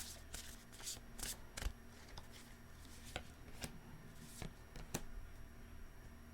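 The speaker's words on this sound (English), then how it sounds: "One more shuffle." Tarot cards being shuffled by hand close up, a run of crisp riffling bursts and sharp snaps at irregular intervals over a quiet room, with no talking.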